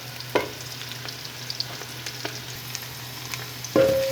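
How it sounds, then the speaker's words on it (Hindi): Chopped onions fry in a pan as part of an aloo gosht curry, with a soft, steady sizzle, occasional light stirring clinks and scrapes, and no talking. "चार से 5 मिनट तक प्याज को अच्छी तरह हल्का फ्राई कर लेते हैं।"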